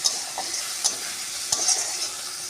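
Cumin and coriander powder with a little turmeric and salt being stirred and fried in a pan for an aloo paratha filling, a steady soft sizzle with occasional scrapes of the spoon, close and without talk.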